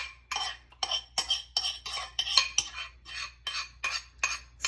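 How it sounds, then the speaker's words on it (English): A spoon scrapes brownie batter of butter, chocolate, peanut butter and caramel from a mixing bowl. The strokes are steady and rhythmic, close and gritty, about a dozen of them over a low background hum, and no one speaks. "Scraping, clawing. Hopefully you don't mind those sounds."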